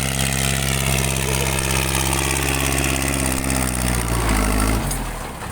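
A vehicle with a loud exhaust pipe plows a cassava field, a constant heavy engine drone running close and unbroken, its pitch dropping slightly near the end as the noise eases off.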